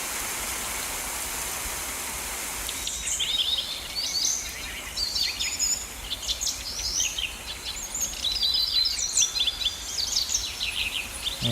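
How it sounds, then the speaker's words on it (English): Birdsong played by a personal EEG neurofeedback device as focus feedback: chirps and tweets enter after a few seconds and repeat over a steady rain-like water hiss. "when you get into the zone, the birds sing."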